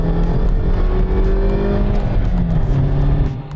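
A Chevrolet Cobalt LS pulls away hard in first gear with wheelspin, its engine a loud, steady close-up drone that rises in pitch and holds to the end.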